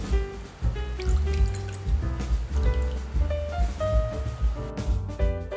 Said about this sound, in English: In a bowl, put 1 cup of rice vinegar